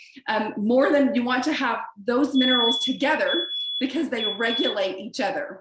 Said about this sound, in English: Okay, so that's my smoke alarm going off.